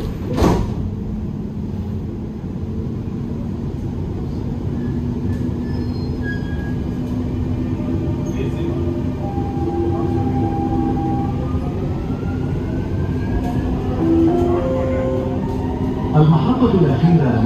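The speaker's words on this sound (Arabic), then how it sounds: "Doors closing." Dubai Metro Green Line train heading toward Creek, with a steady rumbling ride and wheel hum as it pulls away and picks up speed, while faint whining tones rise over the continuous noise.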